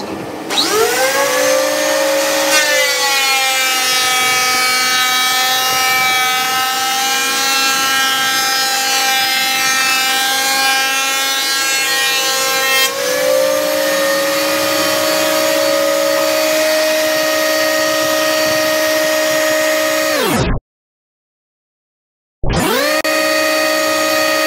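A Jet planer fitted with carbide blades runs on teak wood with a dust extractor going: a loud, steady whine with a strong pitched hum that shifts around midway, then cuts out briefly near the end before starting again. No one speaks.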